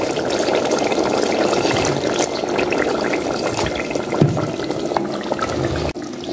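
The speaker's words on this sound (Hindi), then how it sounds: "तो थोड़ा सा डाल देती हूँ पानी" Water poured into a pot of potato curry being cooked as a thin-gravy saalan, a steady close splashing and filling sound running for several seconds with small clinks near the end.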